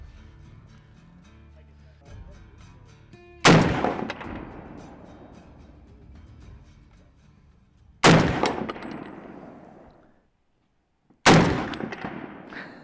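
Three loud M1 Garand rifle shots at an outdoor range, each a sharp crack followed by a decaying echo, spaced a few seconds apart, with faint background noise between.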